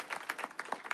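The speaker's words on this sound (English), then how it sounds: "Let's maybe a quick round of applause for the panelists here." A brief, faint burst of audience clapping for the panelists at an Ethereum discussion event, a quick scattered patter of hands lasting about a second.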